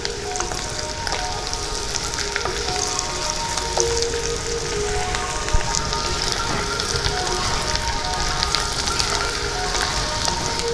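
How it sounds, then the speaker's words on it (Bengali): Chopped garlic fries with potatoes in a pan for dum aloo, giving a steady, dense sizzle up close, with occasional stirring clinks and scrapes. "রসুন কুচিটা আমি লালচে করে ভেজে নেব, যাতে রসুনের অ্যারোমাটা আলুর মধ্যে ঢুকে যায়।"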